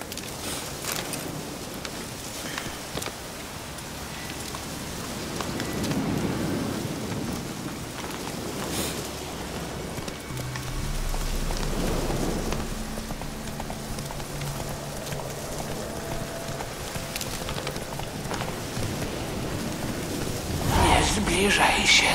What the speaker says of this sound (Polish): Ale w wieśku jest deszcz.